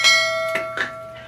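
A notification bell sound effect rings out with a bright chime, followed by two lighter struck tones in quick succession, all close and clear with no talking.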